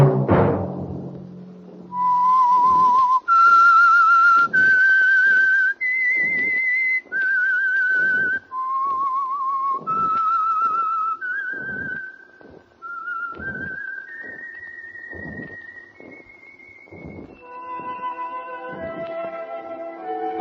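A solo whistled theme for the radio mystery drama The Whistler, 1952: a clear melody of long, sustained notes stepping up and down, loud and close, with no voices over it.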